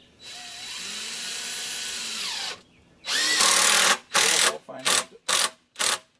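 A power drill drives 3.5-inch deck screws into treated dimensional lumber for entry steps: one long whirring run, then a string of short, loud trigger bursts as each screw is set.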